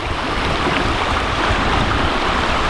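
Spring runoff water rushing everywhere along a hiking trail, a loud, continuous broadband roar of flowing water close by, steady throughout with no voices.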